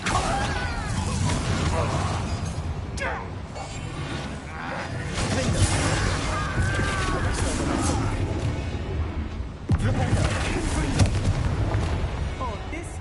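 Confringo fire-spell blasts in the Hogwarts Legacy video game, dense booming explosions and crashes layered over battle sounds, with a louder burst near the end, running beneath character speech throughout.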